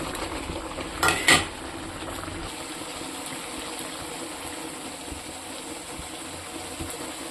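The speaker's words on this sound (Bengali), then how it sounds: "এই যে মাছটা, এটা দিয়ে দেবো" Fish dropped into a cooking pan for a Bengali fish curry, two brief clattering splashes early on, followed by a steady low bubbling simmer close by.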